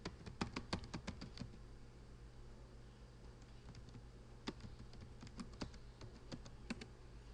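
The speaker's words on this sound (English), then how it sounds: "And I'm going to type in" Quiet computer keyboard typing, a quick burst of clicking keystrokes, a short pause, then a few more scattered key presses close by with no talking.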